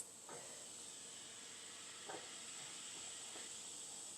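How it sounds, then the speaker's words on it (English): Baking powder fizzing and bubbling in a cup of water, a faint steady hiss of tiny bursting bubbles with a few soft crackling pulses, no voices. "there's a lot of fizzing"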